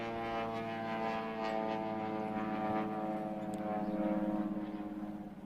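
A vintage bush plane at an air show runs its propeller engine in a continuous droning hum, steady and moderately loud with a slight swell near the end.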